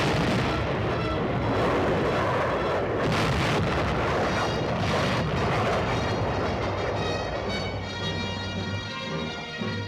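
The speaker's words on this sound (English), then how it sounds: "Air and artillery preparation are completed." Loud, sustained rumbling barrage of artillery fire during a West Point summer military training exercise, a dense continuous roar with overlapping booms and no voices.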